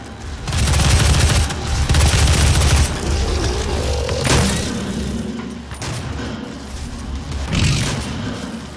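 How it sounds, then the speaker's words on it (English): Shotgun blasts in the video game Doom: several loud, booming shots at irregular intervals, close and heavy, with game mechanism clanks between them. "this shotgun ain't clowning around"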